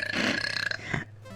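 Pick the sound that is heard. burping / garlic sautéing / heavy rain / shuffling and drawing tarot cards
burping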